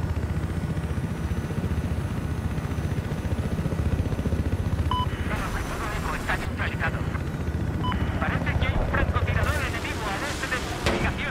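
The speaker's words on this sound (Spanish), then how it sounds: "vamos con el helicóptero este" A helicopter in the video game Battlefield 4 drones steadily under constant rotor and engine rumble, mixed with bursts of gunfire and battle noise, while a player talks over it.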